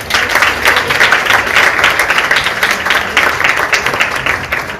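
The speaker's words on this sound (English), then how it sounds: "So please give yourselves a round of applause." An audience at an interview seminar in Vietnam applauds itself, a dense, steady wash of many hands clapping close by, holding evenly from start to finish with no talk.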